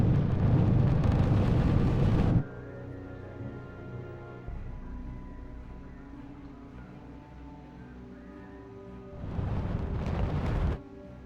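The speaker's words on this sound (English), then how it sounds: "next bombing happening here" Heavy explosions from a bombing run in the strategy war game RUSE: two loud, dense bursts of blast, one at the start and one near the end, with a low rumbling lull between.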